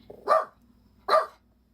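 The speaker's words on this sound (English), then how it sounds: "What are you barking at over there?" A dog at a snowy tiny house gives two sharp, loud barks about a second apart, close by, with near silence between them.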